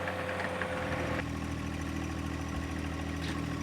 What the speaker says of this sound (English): I've got my own tractor to get started on now.